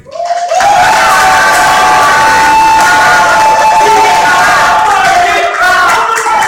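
A loud, sustained burst of applause and cheering from an audience at a costume festival contest, starting abruptly and holding dense and continuous for several seconds with shouts rising over the clapping.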